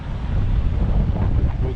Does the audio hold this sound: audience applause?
no